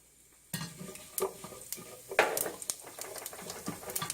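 Cumin seeds hit hot oil in a pan on the stove, giving a sudden hiss and crackle, then scattered popping and spoon stirring and scraping against the pan.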